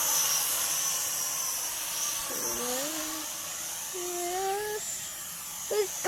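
A small consumer drone's rotors whir in a high, steady buzz at takeoff, the pitch sliding upward in a few short rising sweeps, heard nearby with faint background noise.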